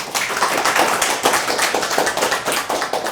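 Applause for presenters at a technical talk on writing HL7 V3 tests, a dense, fairly close patter of hand claps sustained without a break and no voices over it.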